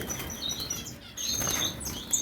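Caged star finches chirp in quick, bright bursts, several birds calling over one another at close range with a steady hiss of aviary background behind them.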